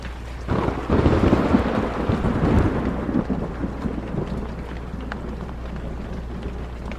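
Heavy rain pours steadily during a thunderstorm in the Blair Witch horror video game, with a loud rolling rumble of thunder swelling early and then easing under the continuous downpour.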